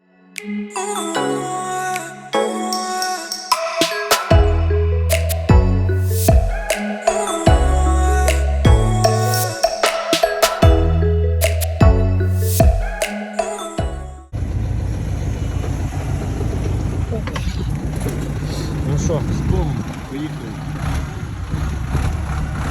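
A T40 tractor engine pulls away and drives off across a field, a steady mid-range engine drone that takes over after a stretch of music and holds fairly loud to the end.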